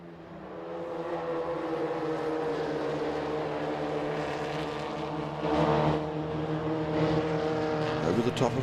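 A Stinger Formula Vee race car runs steadily at a motor racing championship circuit, its engine drone constant and fairly close, rising briefly louder as it passes over a hill and on toward a left-hander.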